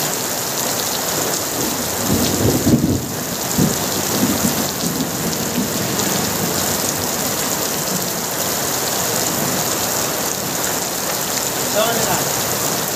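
A sudden heavy downpour roars on without pause, loud and close, while low rumbles swell around the three-second mark and return faintly later, like distant thunder beneath the constant wash of rain.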